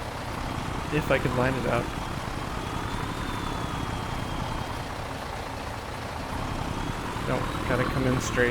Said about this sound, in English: This truck is really loud, by the way.